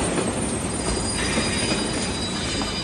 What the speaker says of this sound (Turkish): Trenin sesi onu çok korkutmuştu.